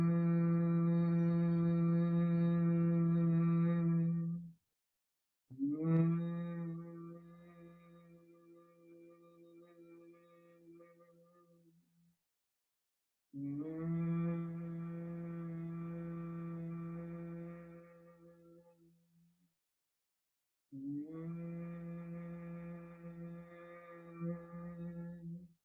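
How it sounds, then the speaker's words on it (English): A person hums long, steady, low-pitched tones during yoga with thumbs pressing the ear flaps closed, in four sustained phrases separated by short silent pauses, close and alone. "And you're just going to hum."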